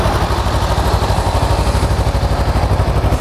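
A Kawasaki Ninja EX300 motorcycle engine idles close by, a loud, even, rapid putter with a steady pulsing rhythm throughout and no voices over it.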